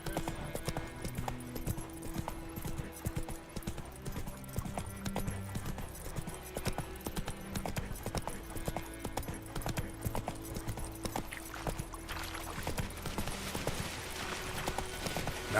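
The horse Roach gallops in The Witcher 3 video game. Rapid, rhythmic hoofbeats drum continuously, close and clear, over a low sustained musical backdrop.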